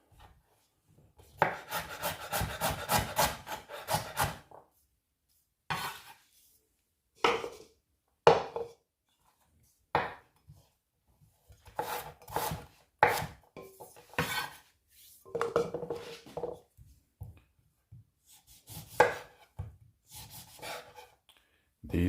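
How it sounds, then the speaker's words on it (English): Ginger, lime, orange and apple being chopped on a cutting board in a home kitchen, heard as bursts of close knife strokes and rubbing scrapes separated by short silent pauses. "So I'm going to go ahead, start chopping these up."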